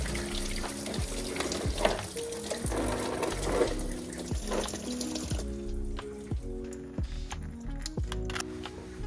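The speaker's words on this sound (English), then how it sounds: "Gotta get this coolant out of here, guys." Coolant drains from a Corvette C6 Z06, a steady splashing trickle of liquid, fairly close, with a faint rhythmic ticking and clunking running underneath throughout.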